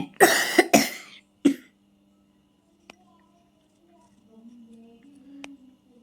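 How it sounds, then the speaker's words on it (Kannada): A child coughs three times in quick, harsh bursts close by, followed by near silence with a faint click or two. "ಕೆಮ್ಮಾಗ್ಬಿಟ್ಟಿದೆ ಗೈಸ್ ನನ್ನ ಮಗನಿಗೆ"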